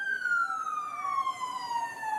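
A police car siren during a high-speed chase stop, one steady descending wail, clear and fairly loud with no talk over it.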